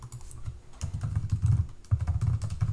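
Typing a web address on a computer keyboard, a close run of quick, uneven key clicks with a brief pause midway and no talk.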